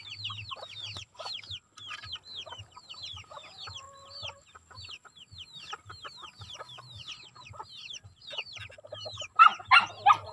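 A flock of chickens clucks and chirps continuously at feeding time, with soft peeping calls throughout and a flurry of louder squawks near the end.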